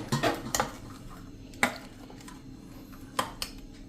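A spoon stirs thick dhokla batter in a bowl, with water just added. It gives several sharp clinks and scrapes against the bowl, spaced irregularly over a quiet background.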